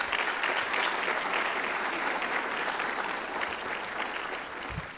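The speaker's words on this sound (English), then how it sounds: "let's give them both a round of applause" A conference crowd at a plant-based health and nutrition session gives a sustained round of applause, a steady dense wash of clapping that holds for about five seconds and eases slightly at the end.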